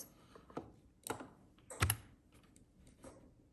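A handful of sparse, close keystrokes on a computer keyboard, with irregular light clicks and one sharper tap in a quiet room.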